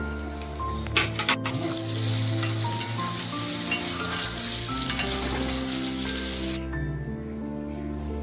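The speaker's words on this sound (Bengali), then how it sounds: "আলুটাকে দিয়ে ভালো করে লাল লাল করে ভেজে নিতে হবে।" Potato pieces fry in hot oil in a pan after cumin and onion, a steady sizzling hiss with occasional stirring clatter running throughout, close and fairly even in loudness.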